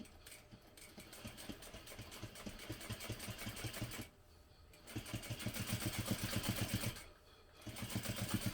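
Sewing machine top stitching a seam on a hobo bag at a 1/8 inch allowance, a fast rhythmic needle chatter in three runs separated by short pauses, close and fairly quiet.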